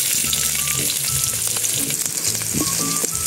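Continuous hot-oil sizzle of onions frying in a pan, close and loud, broken by a few clinks and scrapes of stirring.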